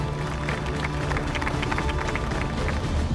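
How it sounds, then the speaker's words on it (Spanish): An audience at a mayoral swearing-in ceremony in Ponce applauds, a steady dense patter of many hands clapping at a fairly constant level with no clear pauses. "Le pido un aplauso para Larry."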